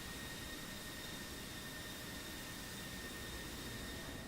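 An F-16C jet engine idles at low thrust while taxiing in the DCS flight simulator, a steady, dense whoosh and hum with faint whining tones, unchanging and alone for the whole stretch.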